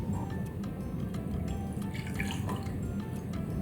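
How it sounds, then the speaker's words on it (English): Hot water poured from a measuring cup into a pan of garlic, a steady splashing trickle with faint drips, continuous and moderately close throughout. "we're going to add the hot water. So we just have some hot water in our measuring cup."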